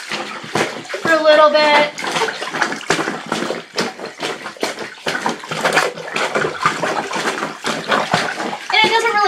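Cloth diapers are swished and scrubbed against an old-fashioned washboard agitator in wash water, giving a steady wet sloshing and rubbing with splashes, close by, while someone talks over it.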